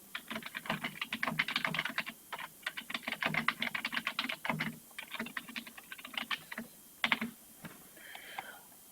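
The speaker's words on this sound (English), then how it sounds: "I'm going to type in my question." Steady typing on a computer keyboard, a dense run of quick, close key clicks with brief pauses and a couple of louder keystrokes near the end, no talking.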